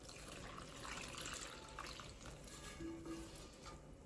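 Milk poured into homemade rural Egyptian bread dough (kmaj), a steady liquid splash and trickle running continuously at close range with no speech.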